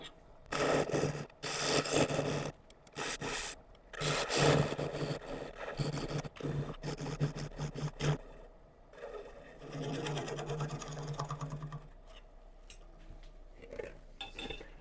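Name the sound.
sanding wooden bowl base on lathe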